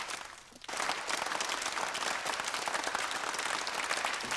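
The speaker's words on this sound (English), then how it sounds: "Some clapping." A clapping sample from the Soundiron Requiem Da Fingaz library plays: after a brief quiet start, dense, steady group clapping like an audience continues throughout, bright and evenly sustained.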